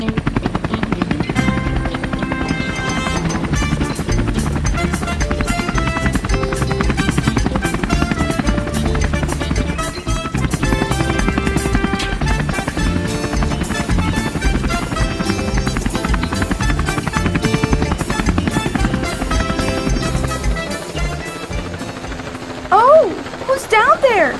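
A cartoon helicopter on a sightseeing flight over Rio de Janeiro drones with a steady rotor chop, loud and continuous throughout, with brief voices over it near the end.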